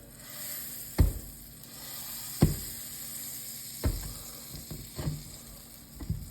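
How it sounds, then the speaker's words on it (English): Butter sizzles and spits in a hot pan before a steak goes in, a steady frying hiss broken by several sharp knocks or taps at regular intervals, no talk. "we want that butter to start to boil because then it's ready to be seared"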